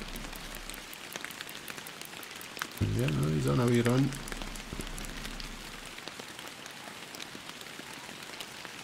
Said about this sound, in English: It's hard to hear now because of the rain.